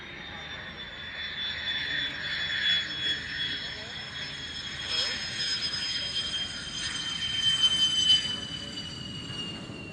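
A jet aircraft taking off for a display at the Royal International Air Tattoo airshow, a distant rising engine roar with a high whine that swells and fades in waves, heard at a faint level.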